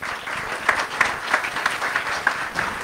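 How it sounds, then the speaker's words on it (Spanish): Applause from an audience welcoming a speaker at an International Women's Day event, a soft steady patter of clapping with a few sharper individual claps standing out at a moderate distance. "Recibámoslo con un fuerte aplauso."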